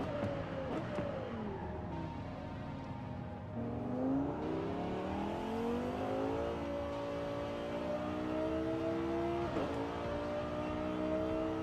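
A Nissan GT-R engine in the racing game Forza Horizon 5 hums steadily, rising and falling in pitch as it shifts through gears and revs up again, heard from a moderate distance with no talk.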